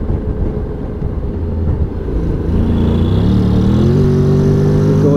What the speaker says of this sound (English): So we go, let's go into sport mode.